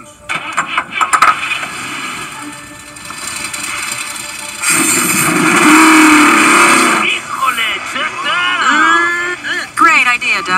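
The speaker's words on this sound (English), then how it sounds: "Gentlemen, start your engines!" Race car engines in the animated Cars film fire up at once into a loud, sustained revving roar after stretches of talk, then give way to more voices and animal-like calls.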